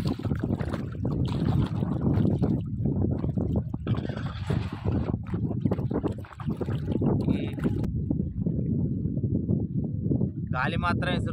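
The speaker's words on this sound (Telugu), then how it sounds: "గాలి మాత్రం విసురుతుంది ఇవాళ" Gusty wind sweeps across open water at a dam, a steady broadband rumble with buffeting on the microphone that continues throughout, while someone talks over it.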